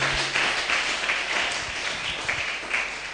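A church congregation applauds the Lord during a worship service, steady dense clapping from many hands filling the room for a few seconds.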